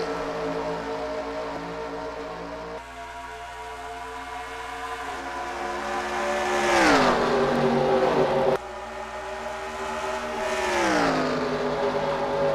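Sim race cars roar off at the green flag at Auto Club. Engines drone steadily and then rise in pitch, and two cars sweep past with sharp falling pitch, loud and close, with no talking.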